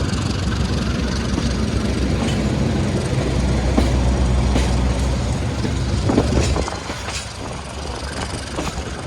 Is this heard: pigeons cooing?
no